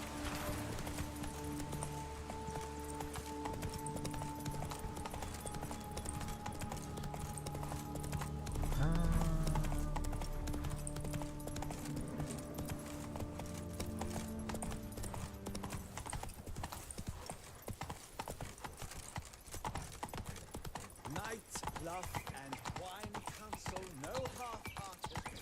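Horse hooves clip-clop steadily through a town in The Witcher 3, a continuous trotting rhythm that runs throughout, with a brief louder burst midway and game ambience underneath.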